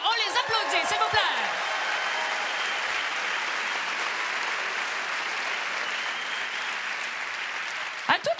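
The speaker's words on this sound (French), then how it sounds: "On les applaudit, s'il vous plaît." The crowd at a gala applauds the musicians after a performance. A voice is heard briefly at the start and again at the end, with steady, moderately loud clapping filling the hall in between.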